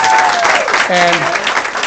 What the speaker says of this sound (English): Give him a big round of applause, sir